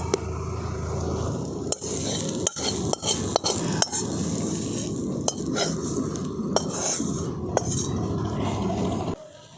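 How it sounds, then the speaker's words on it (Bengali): Drumstick greens and grated coconut stirred in a pan with a metal utensil, giving a steady close sizzle broken by sharp scrapes and clinks against the pan at irregular intervals, with no talking. "খুব ভালো করে নাড়াচাড়া করে আমি নারকেলটাও এই শাকের সঙ্গে খুব ভালো করে মিশিয়ে নিয়েছি"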